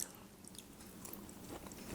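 Quiet, close chewing of cooked asparagus dressed with olive oil, salt and garlic: soft, moist bites and crunches over two seconds with no talking.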